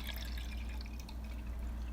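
Distilled water being poured into a container of sugar, a steady close trickling splash with faint drips, heard alone.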